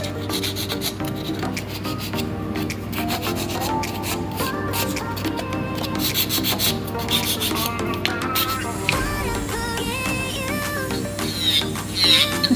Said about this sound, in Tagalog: Ipapile natin siya.